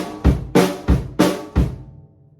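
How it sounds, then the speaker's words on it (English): Close-miked drum kit plays a short fill of five punchy hits alternating flammed drum strokes on the downbeats with bass drum kicks on the upbeats, evenly spaced, then fading out with no talk. "I'm gonna do flams on all the downbeats and the bass drum on all the upbeats."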